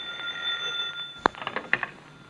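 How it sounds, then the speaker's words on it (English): An old telephone bell rings in short rapid bursts, trilling over a low background hiss, fairly close, with no voices during the ring. "answer the phone, someone."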